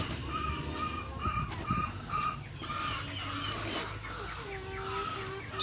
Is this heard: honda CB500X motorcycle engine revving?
no